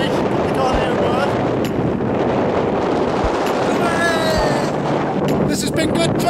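Strong gusty wind on Dartmoor buffets the microphone in a continuous rough rumble, with a few sharp knocks and faint voices underneath.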